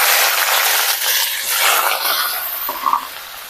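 Sliced onions dropped into hot oil with bay leaf, cinnamon, clove and nutmeg for mutton biryani, a loud hissing burst of sizzle that gradually eases, with a small clink near the end.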